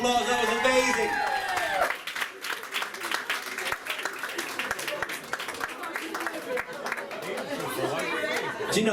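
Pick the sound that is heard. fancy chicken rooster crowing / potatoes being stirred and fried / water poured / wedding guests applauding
wedding guests applauding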